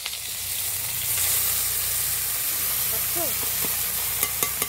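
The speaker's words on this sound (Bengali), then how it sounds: "এবার নামিয়ে একটু হালকা কড়াইতে ভেজে নেব" Steady broadband sizzle of food frying in hot oil in a wok, continuous throughout with a few faint clinks and brief voice fragments.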